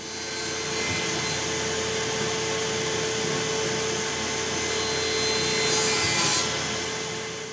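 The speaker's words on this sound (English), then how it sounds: "to do that, I'm using my mini table saw sled" A mini table saw sled cuts slots into wooden rails for a self-clamping straightedge guide, a steady whining blade roar that holds loud and constant throughout with no talking.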